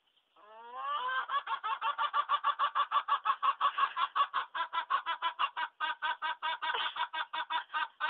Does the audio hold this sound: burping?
no